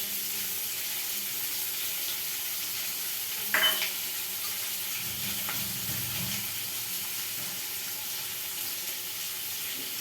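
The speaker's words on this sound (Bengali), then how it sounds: "এই পেঁয়াজের মধ্যে আমি একটু নুন দিয়ে ভাজবো, তাহলে কালারটা ভালো আসে" Sliced onions fry in a pan with salt, giving a steady, faint sizzle throughout, with a brief clink near the middle and a soft stir shortly after.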